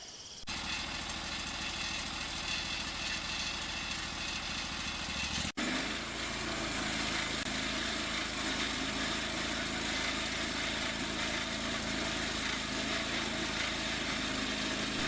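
A portable sawmill engine runs steadily with its dust collection system, a loud continuous mechanical drone with a broadband roar, briefly interrupted by a short click midway before resuming at full level.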